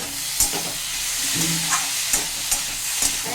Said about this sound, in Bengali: আলু নরম হয়ে গেছে কচুও নরম হয়ে গেছে বন্ধুরা মশলা আমার কষানো হয়ে গেছে